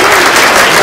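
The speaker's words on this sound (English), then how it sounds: "Give yourself a round of applause" Crowd at a Grand Canyon wildlife day event applauds loudly, a brief, dense burst of clapping with no talk over it.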